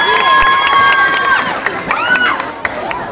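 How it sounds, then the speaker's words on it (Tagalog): A crowd at a FlipTop rap battle in Cubao cheers and shouts loudly in overlapping voices, with a few sharp claps and thumps near the end. "Palakpak muna dyan!"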